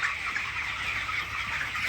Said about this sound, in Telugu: మేము ఈ యొక్క పౌల్ట్రీ షెడ్ చూడండి, 1800 కోళ్ళు పెంపకంని చాలా మంచిగా గ్రోత్ అవుతున్నాయి